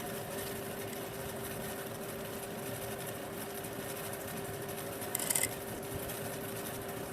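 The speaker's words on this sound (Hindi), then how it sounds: "इस पर सिलाई लगा लेंगे।" A sewing machine stitches a palazzo waistband fold for elastic, running as a steady mechanical hum with a fast rhythmic whir throughout and a brief higher rattle near the end.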